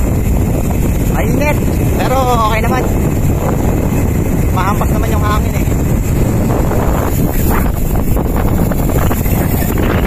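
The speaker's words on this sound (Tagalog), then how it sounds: "Mahampas naman yung hangin eh." Strong wind buffets the microphone during a bicycle ride in Bulacan, a loud constant low rumble and roar that runs throughout, with a voice calling out briefly over it.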